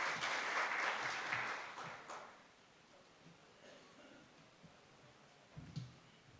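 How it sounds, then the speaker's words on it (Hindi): Applause welcoming a poet at a kavi sammelan poetry gathering in Avantipur: a burst of fairly faint clapping for about two seconds that fades out, followed by quiet room tone and a small knock. "जोरदार तालियां बजाकर उनका स्वागत कीजिए।"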